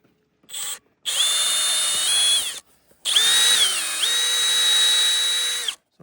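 A cordless power drill bores a tap hole into a maple tree, whining loud and close in two sustained bursts with pitch dips as the bit bites into the wood, separated by short pauses.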